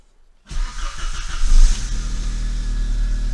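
An Audi 80 B4 with an exhaust problem starts up after a brief silence, then runs at a steady, close idle with a slight rev early on.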